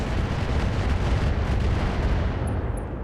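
Heavy weapon fire from the AX in the RogueTech BattleTech game, a sustained roaring blast of dense explosive noise filling the moment at a loud, even level.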